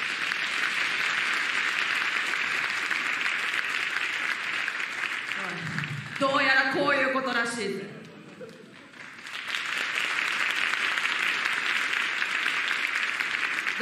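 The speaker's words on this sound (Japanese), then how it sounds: "何の拍手だお前。" Audience applause fills a wrestling press event in a dense, steady wash, briefly dropping away while a voice speaks in the middle, then swelling back to full strength.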